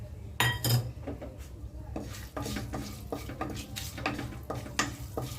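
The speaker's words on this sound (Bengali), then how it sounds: "ভাজা বাদামটা ভালোভাবে নাড়াচাড়া করে নিচ্ছি।" A utensil stirs fried peanuts in hot oil in a pan, making scraping, rattling strokes and a couple of sharp metallic knocks against the pan, close up, with no voices.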